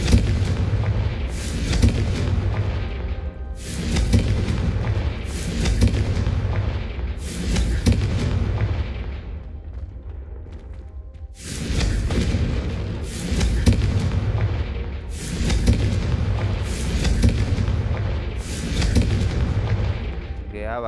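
Confringo spell explosions in Hogwarts Legacy, a run of loud booming blasts in rapid bursts with short lulls between them, one longer pause partway through.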